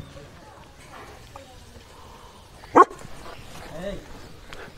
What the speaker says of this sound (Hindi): ये कोई नया ब्रीड कुत्ता अभी मैं देख रहा हूँ